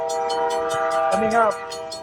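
A train passes near an industrial park, its horn sounding loud and sustained as a steady harmonic blare that briefly bends in pitch, with rhythmic clatter from the wheels throughout.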